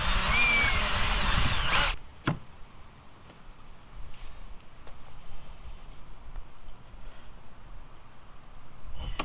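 A power drill whines loudly for about two seconds while boring a bolt hole for a splitter extension on a 2017 Camaro SS, then stops abruptly, leaving quiet handling noises.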